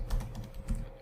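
A short command is typed on a computer keyboard during a Linux x64 debugging session, a few quick, soft, close keystrokes in a brief run without speech.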